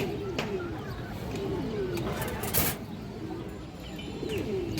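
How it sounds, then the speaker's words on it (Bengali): A light-coloured female China Khaki pigeon coos softly in short repeated calls, with someone talking over it and faint chirps and a passing car in the background. "একটা গররা মাদি কবুতর মাকড়া চোখের গররা মাদি"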